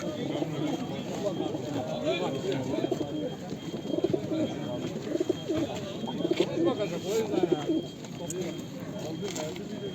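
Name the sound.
birds cooing at a bird market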